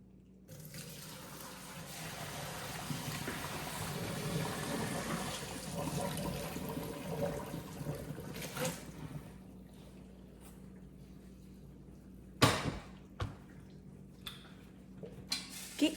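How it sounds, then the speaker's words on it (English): Tap water runs steadily into a kitchen sink as cooked spaghetti noodles drain, a continuous rushing wash that eases off midway, followed by a few sharp clanks. "let's get these noodles drained"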